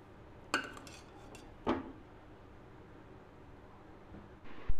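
A metal spoon scrapes and clinks against a pot while sprouts khichdi is served into a bowl. Two distinct clinks stand out in a quiet room, and a soft knock comes at the end.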